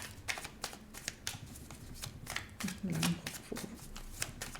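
Tarot cards are shuffled and drawn by hand, giving a run of quick, crisp riffling snaps and soft slides close by. Someone talks over them at moments.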